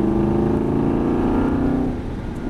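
An Aston Martin V8 Vantage accelerates on a race track, its engine droning loud and close with a steady rising tone before easing off near the end.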